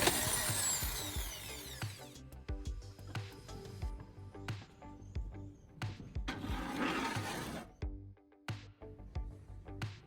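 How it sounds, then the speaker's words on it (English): A power drill bores small holes through PVC pipe, whirring in bursts that start and stop irregularly, alongside scattered knocks and handling clatter, fairly quiet and with no talk. "Now I'm drilling 2 small holes on either side."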